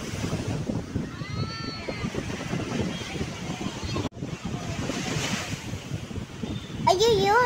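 Sea waves wash up on Besant Nagar Beach, a continuous loud rush of surf with heavy wind buffeting on the microphone and voices calling out nearby.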